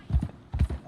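Horse hooves clip-clopping in a video game: two quick pairs of hoof thuds, close and fairly soft, with nobody talking.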